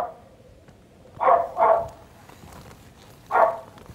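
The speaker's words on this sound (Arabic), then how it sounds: "انا سامعه الكلب" A dog barks three times at close range, two quick barks followed by a single one after a pause, loud over a quiet room.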